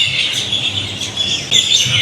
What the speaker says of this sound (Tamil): பேர்ட்ஸ் வாய்ஸு எவ்வளோ அமைதியாக ஒரு மரத்தில் அமைதியாக ஒரு பேர்டோட வாய்ஸையும்